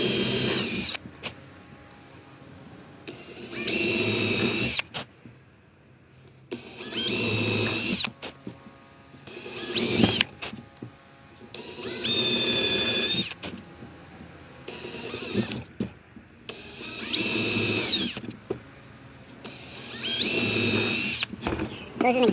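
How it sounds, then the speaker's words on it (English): A power drill bores a series of holes around an opening in birdhouse wood. Five loud, whining bursts of a few seconds each are separated by short pauses, with a voice talking at times between the bursts. "So this is an example of drilling all the way around to open it out."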